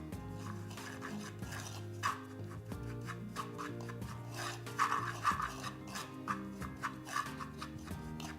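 About two spoons of almond oil stirred lightly into a dry powder in a bowl, producing soft scraping and rubbing strokes with a few sharper clinks, heard close under steady background music.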